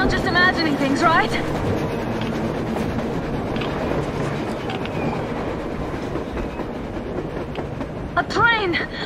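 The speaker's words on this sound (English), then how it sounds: "A train! A damn train on the surface!" A train rolls along on the surface in the Metro Exodus video game, a steady rumbling clatter that fills the whole stretch, with short bursts of voices and game sounds over it.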